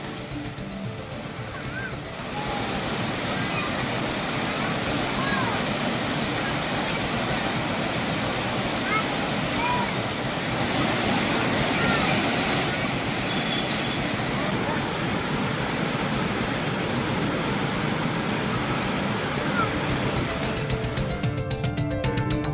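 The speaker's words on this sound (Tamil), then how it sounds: "பெரியார் அருவியில் வெள்ளப்பெருக்கு ஏற்பட்டு தண்ணீர் ஆர்ப்பரித்து கொட்டுகிறது" The Periyar waterfall in the Kalvarayan hills, swollen by heavy rain, roars in a loud, steady, broadband rush of falling water that fills the whole stretch without pause.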